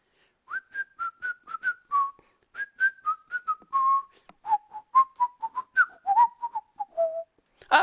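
A person whistles a simple tune alone, a steady string of clear, separate notes that rise and fall in short phrases, close and fairly loud, with no talking.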